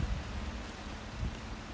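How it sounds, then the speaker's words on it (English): Rain falling outdoors around a parked 2015 Chevrolet Camaro SS, a steady soft patter with low rumbling noise and no voices. "sorry for the rain"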